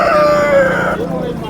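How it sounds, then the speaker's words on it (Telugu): A rooster crows loudly and close by in one drawn-out call at a tribal market, with country chickens faintly clucking behind it. "నాటుకోళ్ళు కుప్పలు ఉన్నాయి కుంపెంట్లో చూడండి"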